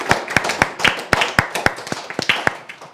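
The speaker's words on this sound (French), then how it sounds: "je crois qu'on peut vous applaudir très très fort" Applause for students at a school event comes as crisp, distinct hand claps, about four per second, close and fairly loud in an uneven but steady rhythm.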